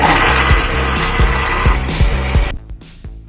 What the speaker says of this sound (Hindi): पहले इनको अच्छे से ग्राइंड कर लेंगे